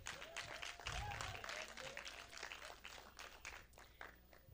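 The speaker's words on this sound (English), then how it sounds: "let's give Fumi a round of applause." An audience applauding at a conference talk on technology, with a fairly faint, continuous patter of many hands clapping at a distance.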